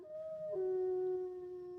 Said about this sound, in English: If I hadn't known there was a dog behind me and hearing those howls